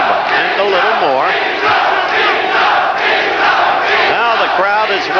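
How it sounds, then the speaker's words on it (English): A boxing arena crowd of British fans waving flags during the eleventh round roars and chants continuously, loud and dense, with rising shouts through the whole stretch. "The crowd is waving British flags, the British fans here, and shouting Minter, Minter."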